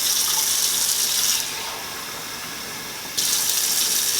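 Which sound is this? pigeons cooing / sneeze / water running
water running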